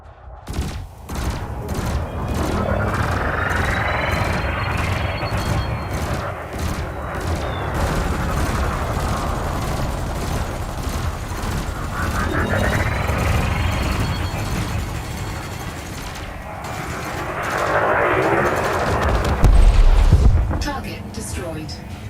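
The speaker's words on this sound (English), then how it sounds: "You may have noticed that multi-cannons are effective against unshielded targets." Multi-cannon fire aimed at target drones in the Elite Dangerous space game comes in long, dense rapid-fire bursts that swell and fade in three waves, loud and close.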